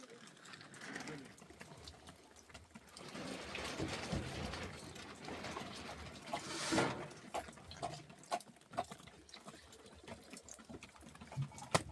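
Steady rain falls outside a mountain cave in heavy storm weather, a dense hiss of drops that swells in the middle and continues under scattered voices talking nearby.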